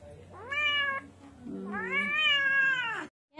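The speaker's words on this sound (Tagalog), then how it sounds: "Wawa naman ang mga pusa ko." Pet cats shut in an enclosure meow loudly and plaintively, two long drawn-out cries close by, the second rising and falling, with no talk over them.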